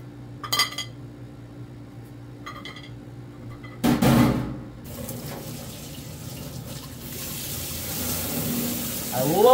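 A kitchen tap runs at high pressure into a sink and washes a knife. Utensils clink at first, then a strong hiss of water builds and keeps going, with a few words spoken quietly.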